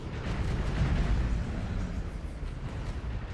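Cannons taking an impact in a video game demo, heard as a loud, rumbling explosive blast that rolls on with heavy low-end boom and slowly fading debris.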